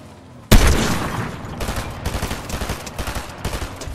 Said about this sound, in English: Oh, someone's already shooting me.